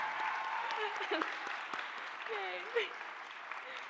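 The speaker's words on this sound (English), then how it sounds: "let's give her a round of applause" A graduation audience gives a moderate round of applause, a soft, steady patter of many hands under voices and some bright tonal sounds, heard from a distance.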